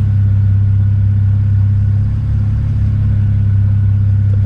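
A BMW 335i engine idles steadily with the revs raised, a loud, continuous low rumble close by with no talking over it.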